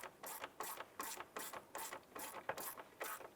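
Ratchet driving in a screw while a cooling fan assembly is installed on a 2011-2019 Ford Fiesta, about eight quiet, evenly spaced clicking strokes heard close up with no talk.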